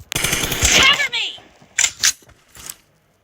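Video game gunfire: a long rapid automatic burst up front, then several shorter separate bursts of shots, loud and close.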